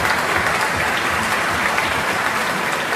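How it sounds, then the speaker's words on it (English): Applause, an even, continuous wash of many hands clapping at moderate loudness for the full three seconds, with no voices standing out. "nerds, it gets a slow clap."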